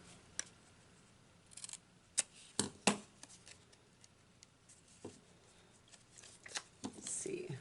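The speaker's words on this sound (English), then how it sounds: "we're going to just snip this little piece out." Scissors snip a small piece out of a playing card with a few sharp, separate clicks, quiet and close, followed by a rustle of handling.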